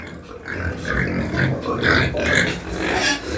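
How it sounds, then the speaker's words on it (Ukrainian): Several pigs squeal and grunt loudly nearby in repeated shrill bursts, overlapping in an agitated, continuous racket. "наші свинки викрикають як навіжені"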